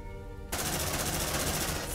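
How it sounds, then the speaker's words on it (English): Sentry gun firing in Aliens: Dark Descent, a sudden rapid automatic burst that kicks in after a brief tonal sound and keeps going steadily to the end. "Deploying sentry gun."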